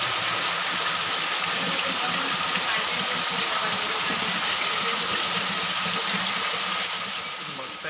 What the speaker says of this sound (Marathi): पावसाचा आवाज येतो